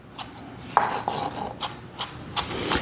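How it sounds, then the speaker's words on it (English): A knife chops green onion on a cutting board in a few quiet, scattered taps and scrapes, close but soft, with no talking. "I'm gonna run my knife back through it again"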